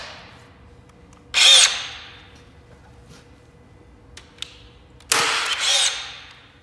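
A Hilti BX 3 battery-powered fastening tool sets a conduit clip, firing two sharp, loud bursts a few seconds apart, with a quieter mechanical click between them in an otherwise quiet space.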